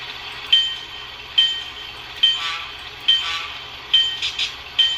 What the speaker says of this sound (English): this is the first time I've gotten this locomotive to move under its own power.